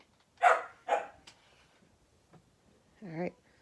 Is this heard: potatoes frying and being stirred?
no